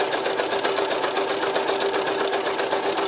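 A sewing machine in the Payote workshop in Toulouse stitches an Italian-style seam, making a loud, close, rapid and even mechanical whirring chatter that runs continuously for about three seconds.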